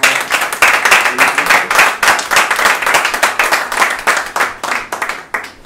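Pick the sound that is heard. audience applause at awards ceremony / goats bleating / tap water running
audience applause at awards ceremony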